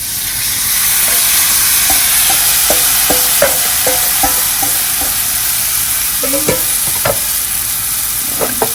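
Shrimp and sauce stir-fry in a pan, making a loud, hissing continuous sizzle close by, with repeated light clicks and scrapes as the mixture is stirred.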